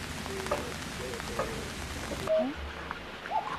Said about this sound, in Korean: 갑자기 비가 오기 시작하네.